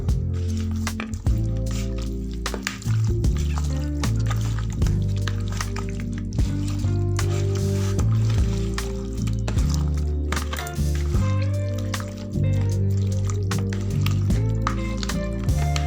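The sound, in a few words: mixing chicken with marinade by hand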